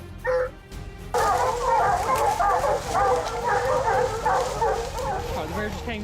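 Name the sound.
hunting dogs barking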